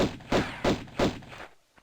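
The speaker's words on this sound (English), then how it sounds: "Sounds like a perfect 90s video game gunshot to me." Three booming gunshots from the 1990s Tomb Raider video game, loud and evenly spaced, each a broad thudding blast with a short decay, followed by a faint click.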